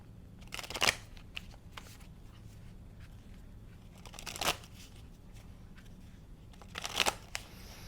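Oracle cards, animal spirit deck, shuffled by hand in three short riffling bursts spaced a few seconds apart, close but soft over a quiet room hum, no voices.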